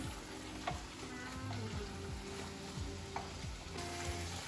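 Beef frying in a home kitchen pan for bibimbap, a soft continuous sizzle under intermittent scraping taps of a utensil against the pan, fairly quiet and close.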